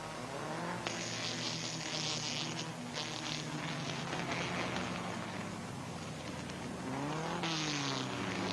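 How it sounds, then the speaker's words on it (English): Race cars on a track, from Volkswagen-powered Formula V cars to Corvettes and modified cars, whine past at a distance as buzzing engine notes that rise and fall in pitch with each pass. "Races are being run today, from Volkswagen-powered Formula V cars up to high-powered, noisy Corvettes and modified cars."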